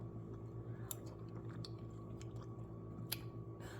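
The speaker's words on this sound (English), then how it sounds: "Let me go ahead and taste" Close, quiet chewing of vegan Tuscan white bean soup, soft wet mouth sounds over a steady low hum, with a few sharper clicks near the middle and end.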